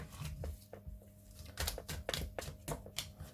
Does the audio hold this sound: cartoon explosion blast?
no